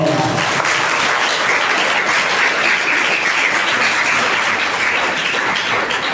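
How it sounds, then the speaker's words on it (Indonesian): Audience applause at a village leadership and governance gathering in Karangmalang, Indonesia: dense, steady clapping from a crowd, loud and sustained at an even level throughout with no break. "Tepuk tangan untuk"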